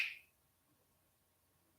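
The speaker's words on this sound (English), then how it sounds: "Okay, snap of the fingers." A single sharp finger snap right at the start, quick and crisp, then near silence.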